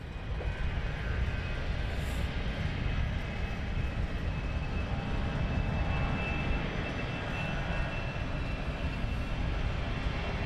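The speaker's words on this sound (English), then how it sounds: "Once this aircraft departs and the landing aircraft" Jet airliner taking off from London Luton Airport, a steady, loud broadband engine roar with a constant whine, sustained and unbroken throughout, with no speech.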